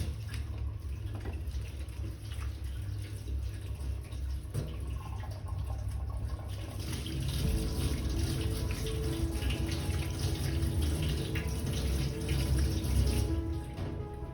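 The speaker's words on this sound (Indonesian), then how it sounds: "Kemudian kita cuci tangan menggunakan 6 langkah." Running tap water pours steadily as hands are washed for a clinical procedure, a soft continuous hiss that grows slightly fuller and splashier partway through, with no talking.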